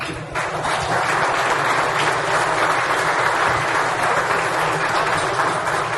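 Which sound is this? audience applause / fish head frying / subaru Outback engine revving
audience applause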